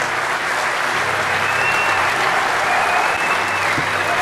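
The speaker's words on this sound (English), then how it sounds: "Let's hear a round of applause." A conference audience at DEFCON 20 breaks into steady, dense applause that stays loud and even throughout, with no voices above it.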